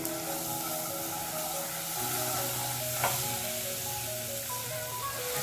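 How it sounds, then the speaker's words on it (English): Butter melts in a hot pan for baked macaroni and cheese, producing a steady close sizzle and crackle with a brief spit near the middle and no talking. "Go ahead and add the butter."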